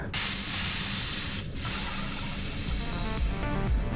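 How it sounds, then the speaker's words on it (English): Hydraulic steering fluid pressure is let out of a Peugeot's power steering system during a rack replacement in an underground car park. It comes as a loud, steady hiss that runs almost the whole time with only a brief dip, and no one speaks. "I'm just going to release the pressure because I'll put this back on in a minute."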